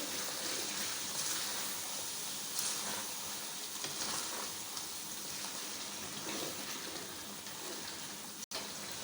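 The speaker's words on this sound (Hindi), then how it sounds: "और जो मसाला है वो भी इसके अंदर ही हम ऐड करेंगे और अब फुल फ्लेम पे ही हम इसको मज़ीद भूनेंगे।" Chicken tikka masala being fried in a karahi on full flame, a steady close hiss of sizzling oil and spices with a small clatter near the end.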